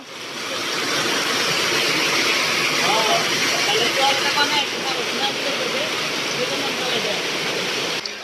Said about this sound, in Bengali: দেখুন যে বৃষ্টি শুরু হয়েছে ভয়াবহ অবস্থা